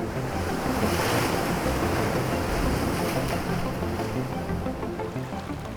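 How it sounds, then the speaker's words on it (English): Rough ocean surf on California's Lost Coast crashes in a steady, loud roar with wind buffeting the microphone, no voices present. "the rough ocean waves"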